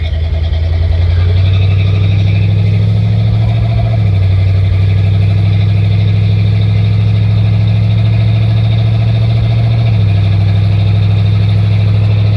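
A car engine idles loudly and steadily on a drive to a thrift store in Dobson, North Carolina, a low even hum with a slight dip in pitch twice, no voices over it.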